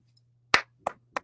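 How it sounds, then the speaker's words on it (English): Three separate claps ring out one after another, sharp and close, over a faint low hum, with the first the loudest and then two quicker, softer ones. "That deserves an applause."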